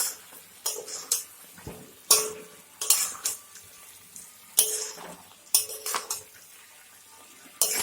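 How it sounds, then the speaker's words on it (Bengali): Chicken fries with turmeric, cumin, coriander and chili powder in a pan, stirred with repeated scraping clanks of a utensil against metal over a soft background sizzle, close up with no talking. "আবারও ভালো করে ভেজে নিব।"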